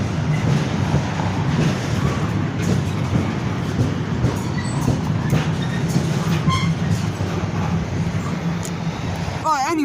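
A train rumbles past at Water Orton in the West Midlands, a steady loud rolling roar with faint metallic squeals and clicks over the rails.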